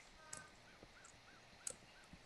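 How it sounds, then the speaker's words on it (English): A bird in a Minecraft multiplayer game squawks in a few short, faint calls spread across the moment, with sharp high chirps standing out against a quiet background. "Bird squawking."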